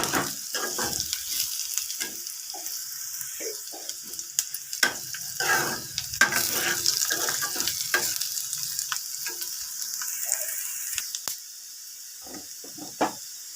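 Ivy gourds fry to golden in a pan for a village-style ivy gourd and peanut fry: a continuous close sizzle broken by repeated stirring clatters and scrapes, with no voices.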